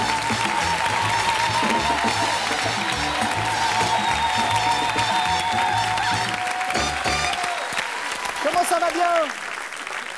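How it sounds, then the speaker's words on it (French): A television studio audience applauds for guest Lionel Charbonnier, with loud sustained clapping and cheering filling most of the stretch before tapering off as a host speaks over it. "Merci d'applaudir Lionel Charbonnier."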